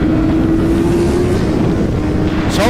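A sport bike races with the microphone on board, a loud continuous engine drone holding a steady pitch under heavy wind rush, rising briefly near the end.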